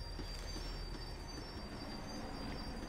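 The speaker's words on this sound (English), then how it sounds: "The tram was slowing down, and I'd only just gotten on board" Tram from the game Max Payne 3 decelerating, a steady, loud rumble of wheels on rails with a faint high metallic squeal running throughout.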